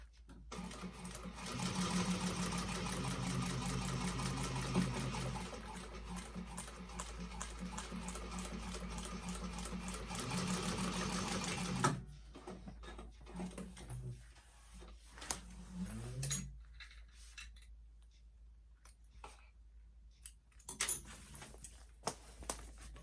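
A sewing machine top-stitches a vintage expandable tote bag in a long, steady, rapid run of about ten seconds, then stops, leaving quiet handling and fabric rustles with occasional sharp clicks.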